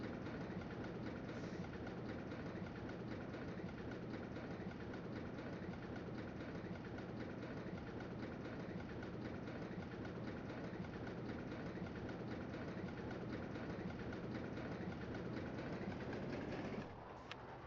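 Roller coaster train from RollerCoaster Tycoon 2 on a castle-themed ride, a steady continuous rumble with rapid clattering wheel clicks running throughout, loud and unbroken until it cuts off near the end.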